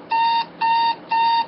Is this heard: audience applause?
no